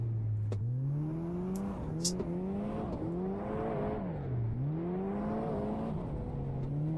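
A front-wheel-drive car in Assetto Corsa revs and drones steadily, engine pitch rising and dipping as it shifts and slides, loud and continuous with a brief squeal-like burst.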